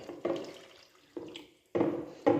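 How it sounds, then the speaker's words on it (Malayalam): Water being poured into a mutton masala in a pot for cooking, in several separate splashing bursts, each sudden and fairly loud before trailing off, close by with no talk. "പിന്നെ ഇത് വെവ്വാനുള്ള വെള്ളം ഇതിൽ ഒഴിക്കണം."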